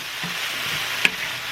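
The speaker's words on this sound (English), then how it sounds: "we're going to cook this up until the mushrooms are golden brown" Mushrooms and garlic fry in sesame oil in a pan, making a steady close sizzle with one brief sharp tap partway through and no talking.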